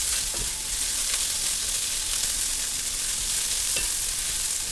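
Garlic, ginger and green chillies sautéing in a pan for a Kerala beef curry, a steady loud sizzle throughout with occasional stirring scrapes.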